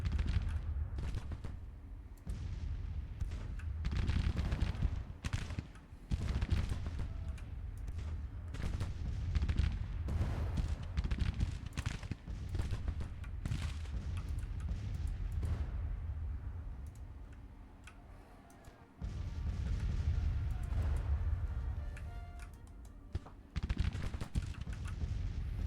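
Musket fire aimed at prone skirmishers in a Civil War battle near Petersburg in Grand Tactician, with ragged volleys and scattered shots crackling over a low rumble, coming in bursts with brief lulls.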